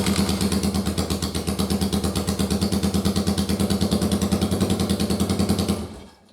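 A first-generation Yamaha Virago motorcycle with a bare-bones wiring harness starts and idles with a steady, loud, pulsing engine beat that runs close up for about six seconds, then cuts off abruptly.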